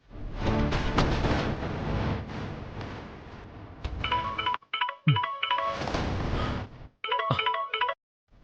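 A mobile phone rings with a repeating electronic ringtone, sounding in several bursts with short gaps and no answer, over a dense background of music or ambience at the start.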